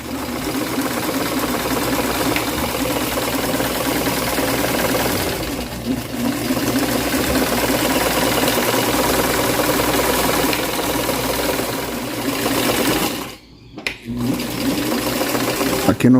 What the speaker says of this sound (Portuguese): vou descer aqui o meu pé calcador e vou dar um retrocesso pequeno e venho costurando